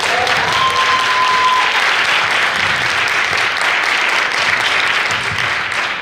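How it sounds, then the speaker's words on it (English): An audience at a community law event breaks into sustained, dense applause that holds evenly loud for the whole stretch, with a faint whistle early on. "you got to give them another round of applause"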